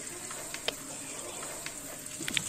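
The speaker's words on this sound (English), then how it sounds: "I will heat the pan with vegetable oil and cook the bread on the pan" Bread frying in a pan of hot vegetable oil for street-style egg rolls in Kolkata, a steady soft sizzle with a few brief crackles and pops, heard close with no talk.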